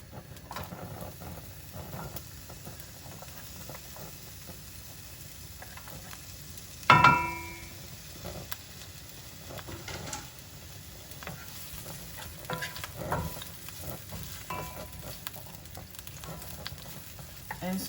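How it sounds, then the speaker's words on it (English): Onion sautés in about two tablespoons of oil in a pan, a faint, low sizzle with soft scraping of stirring and one sharp clatter partway through. "The first thing is I saute the onion."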